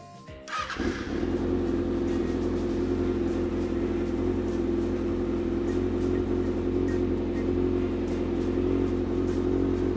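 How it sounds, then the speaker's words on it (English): A 2019 Kawasaki Ninja ZX-6R with an M4 exhaust cranks and fires up within the first second, then settles into a steady, close, rumbling idle that holds evenly to the end. "we're gonna try starting it one more time"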